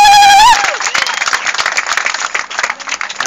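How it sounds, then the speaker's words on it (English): An audience at the 2015 YCC grand finale breaks into dense applause right after a brief tone, with steady clapping that fades unevenly over a few seconds. "a round of applause"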